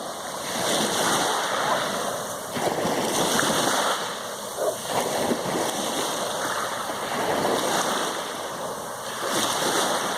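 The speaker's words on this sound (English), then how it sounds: "Well, the waves are getting big." Ocean waves surging and splashing steadily at close range, a continuous broadband wash of surf with rolling swells, heard outdoors with no voices present.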